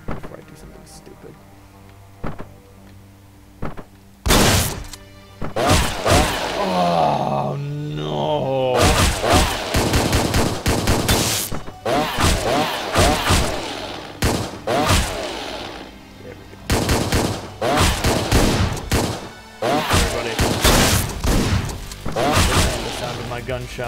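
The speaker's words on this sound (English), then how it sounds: "Gunshots." Rapid bursts of gunfire from the top-down action game Hotline Miami 2, sharp loud cracks and thuds clustered over pulsing game music, with a voice talking at times in between.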